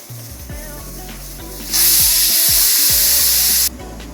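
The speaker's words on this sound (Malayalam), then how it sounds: "നമ്മൾ 1 വിസിൽ വന്നിട്ടുണ്ട്." Pressure cooker on high flame holding chicken curry with potatoes lets out one sustained, loud steam whistle lasting about two seconds, rising sharply over a low stove rumble and cutting off abruptly.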